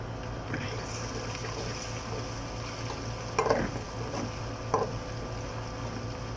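Garlic and ginger paste frying in a pan for a mixed vegetable curry, a soft continuous sizzle with a couple of brief stirring clatters, no talking.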